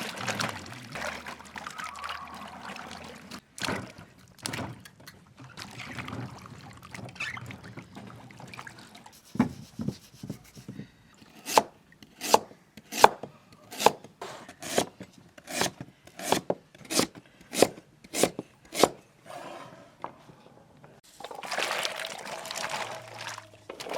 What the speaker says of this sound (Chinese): 切碎。